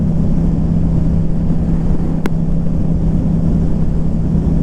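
A Yamaha MT-07 motorcycle riding a country road, heard as a steady engine drone under heavy, constant wind rush, with one brief click partway through.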